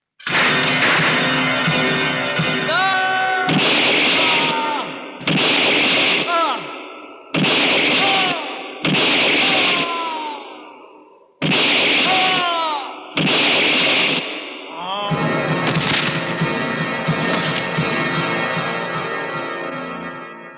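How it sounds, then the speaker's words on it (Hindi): Rapid bursts of gunfire loaded with blank rounds ring out in a staged film shooting scene, very loud and echoing, in repeated volleys separated by brief gaps with a trailing rumble, and voices are heard faintly in between. "नकली गोलियों से कितने अच्छे इफेक्ट"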